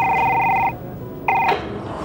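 A telephone rings in two close, clear bursts separated by a short pause, set in a Bangla drama scene with no talk over it.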